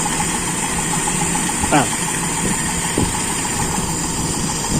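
Toyota Kijang engine with an Aisan carburetor idling steadily and close, a continuous mechanical hum with a couple of brief blips as the accelerator pump is worked, RPM settling slowly; a voice speaks briefly.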